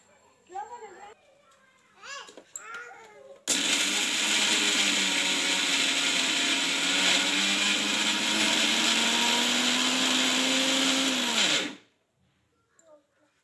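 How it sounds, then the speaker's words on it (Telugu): A kitchen mixer grinder whirs loudly and steadily for about eight seconds while grinding garlic with chilli powder and rock salt, cutting off abruptly; brief voices are heard before and faint sounds after. "ఇప్పుడు దీన్ని మిక్సీ పట్టుకుందాము"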